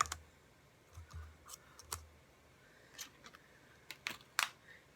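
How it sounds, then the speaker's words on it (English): Scissors snip paper stamped shapes cut from black cardstock for a card, giving faint, sparse crisp cuts and clicks spread out in an otherwise quiet room. "And I'm going to cut out the fence and the bat"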